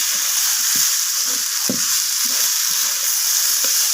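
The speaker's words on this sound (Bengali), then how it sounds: "এখানে একটু সময় নিয়ে হাতে তো সবজিটাকে ভালোভাবে কষিয়ে নিতে হবে" Mixed vegetables sautéed by hand in a pan, a steady close sizzle with repeated scraping stirs of the spoon knocking through it at an uneven rhythm, no voices.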